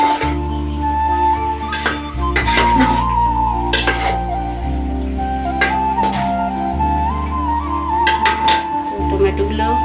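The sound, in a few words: stirring cauliflower in a pan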